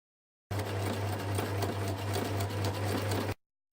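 A sewing machine runs a 1 cm straight-stitch seam on a skirt, one continuous close whirring hum with fast needle chatter that starts abruptly and stops about three seconds later, with no voice over it.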